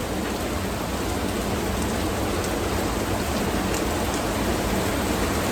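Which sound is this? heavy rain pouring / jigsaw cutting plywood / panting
heavy rain pouring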